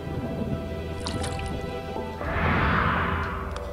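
A bucket of water is poured in a hidden-object puzzle game set at a lakeside boatbuilding scene: a few light drips, then a steady, close splashing rush that fills the second half.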